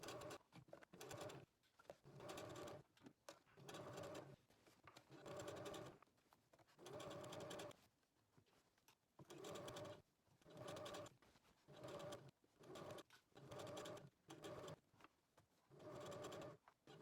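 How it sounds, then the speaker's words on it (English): A sewing machine stitches a pinned waistband onto Tania culottes in repeated bursts, each run of stitching lasting a second or two with short pauses between, quiet and close. "now we have our waistband all pinned on here and we're ready to go take it to the sewing machine"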